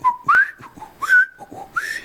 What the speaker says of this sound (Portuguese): eu comecei a tocar e fazer um assobio